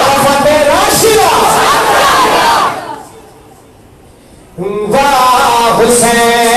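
A mosque congregation at a Muharram gathering roars a slogan back in loud unison, a dense chant of many voices that drops to near quiet and then surges again in a second massed shout.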